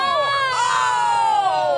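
A game show crowd cheers, a loud, sustained collective yell that rises and bends in pitch for under two seconds, close and intense.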